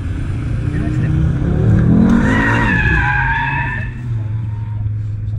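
An Audi RS3 accelerates with a rising engine roar and tires squealing, heard from inside the car while someone speaks French over it.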